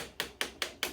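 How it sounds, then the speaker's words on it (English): Four evenly spaced sharp taps of a dead blow hammer striking a metal punch on an Anderson lower receiver, close and crisp, with nothing else around them. "This punch and a dead blow hammer"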